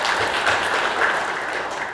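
Applause from an audience welcoming a speaker at a forum for administrative agents, a steady even roar of clapping filling the whole stretch with no talk over it.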